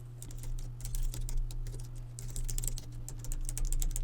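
Rapid typing on a computer keyboard while entering spreadsheet data, including presses of the tab key; steady, close, fairly loud clicking clatter with no talk.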